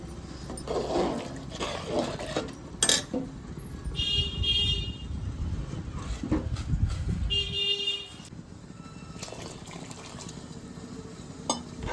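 Water is poured from a vessel onto basmati rice in a cooking pot, a steady splashing run for several seconds that then fades to quieter kitchen background.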